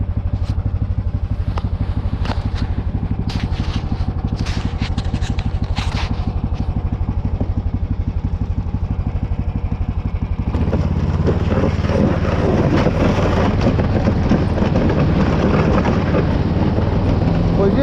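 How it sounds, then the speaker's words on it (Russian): Snowmobile running steadily over iced-up, rough snow in the taiga, its engine a continuous close drone with rattling and knocking from the bumpy track, growing louder and harsher in the second half. "Потихонечку добираемся, быстро не еду, потому что буранка заледенела."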